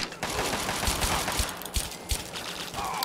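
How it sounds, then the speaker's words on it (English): Rapid gunfire rattles in the snowy Anchorage, Alaska combat of Fallout 3's Operation Anchorage, dense automatic bursts at moderate loudness with no talk over them. "Guns are blazing."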